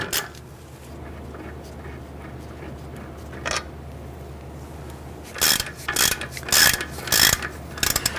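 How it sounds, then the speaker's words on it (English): A ratchet removes the lower brake caliper bolt on a 1999-2004 Jeep Grand Cherokee, a quiet hum with a single click, then several quick bursts of close, loud ratcheting clicks in the last three seconds. "Now I'm going to go ahead and remove the lower bolt."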